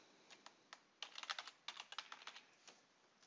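A title being typed on a computer keyboard while building a PowerPoint slide, with quiet, close key clicks in short irregular bursts and no talking.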